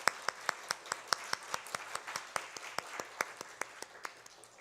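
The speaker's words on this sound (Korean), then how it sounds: "우리 축복과 환영의 박수 하겠습니다" Welcoming applause for visitors at a Korean church worship service: a small congregation claps in an even rhythm of sharp, distinct hand claps, moderately near, with no talk.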